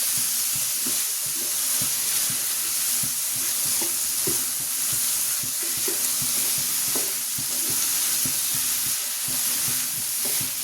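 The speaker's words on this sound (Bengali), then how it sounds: "ডালটাকে একটু ভেজে নিচ্ছি" Lentils frying with ginger garlic paste in a pan, a continuous sizzle with repeated stirring scrapes ticking through it at a fairly even pace, close and alone without talk.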